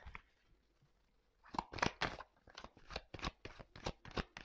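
Tarot cards are shuffled close by. A quick series of crisp riffling bursts follows a quiet moment, with the sharp, rhythmic flicks coming one after another.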